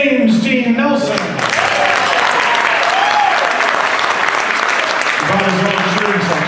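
An audience at a live Irish folk band concert breaks into loud, sustained applause with cheering, as a presenter speaks over the start and end of the clapping.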